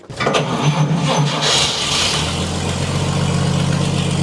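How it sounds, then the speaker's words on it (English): An old 1947 Chevrolet Fleetline engine cranks and catches, sputtering briefly before settling into a loud, rough, steady idle close by. "See if it'll fire, if it still has fuel in it real quick"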